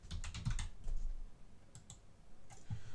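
Quick bursts of typing on a computer keyboard, close and crisp, with a short pause between two clusters of key clicks and no talking.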